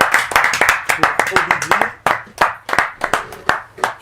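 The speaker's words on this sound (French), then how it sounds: "applaudissements s'il vous plaît" A studio audience on a music promo show claps for a rapper, with loose, uneven individual hand claps of a small crowd, close and sharp, while a host speaks briefly over them.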